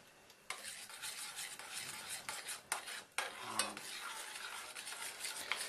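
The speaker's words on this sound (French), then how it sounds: "alors il est bien fondu, on va le laisser brunir. Ce qu'on appelle un beurre noisette" Butter melting and browning into beurre noisette in a pan for sweet wheat crêpes, a soft continuous sizzle broken by several clinks and scrapes of a utensil against the pan.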